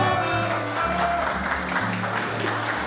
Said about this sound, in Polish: Gorące brawa dla naszej nowej pary młodej.